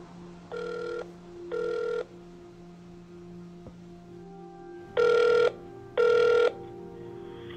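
Telephone ringback heard while a call is transferred at a Montréal geriatrics institute: four evenly spaced double-burst electronic rings, two early and two louder later, over a low steady hum on the line.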